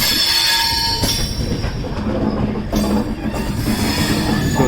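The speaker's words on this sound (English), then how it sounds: "So these are some local trains going not very far but very slow." A slow local train rolls near Madgaon station in India, a loud continuous rumble of wheels on rails with metallic squealing tones, heard close and steady throughout.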